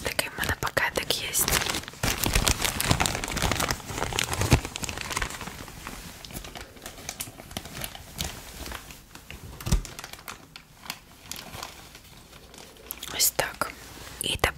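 A small plastic bag crinkles and rustles in quick, crisp bursts close up, with soft whispering throughout.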